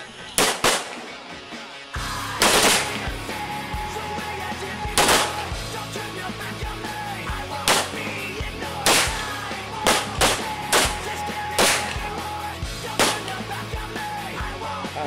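Gunshots crack out at a night combat shooting practice, sharp and loud, fired in irregular single shots and quick pairs spread over fifteen seconds, with faint voices between them.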